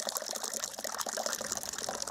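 Home-brewed coffee cream ale with vanilla beans pours steadily during transfer, a continuous close gushing, splashing stream of liquid with no pauses and no talking.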